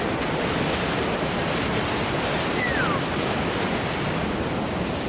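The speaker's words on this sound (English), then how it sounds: "that waterfall is so cool. It's like the pure amount of water that's going through that." Rushing water from a large, powerful waterfall at Don Det in Laos makes a steady, dense, roaring wash of noise that never lets up, close and loud, with a faint whistle-like tone passing briefly through it.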